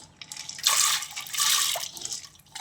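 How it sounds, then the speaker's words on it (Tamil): Water from a tumbler splashes into a pressure cooker on the stove in two short pours with a gap between, close and fairly loud, and no talking. "அடுப்பு ஆன் பண்ணி குக்கர் வச்சு ஒரு 2 டம்ளர் அளவுக்கு தண்ணி சேர்த்துக்கலாம்"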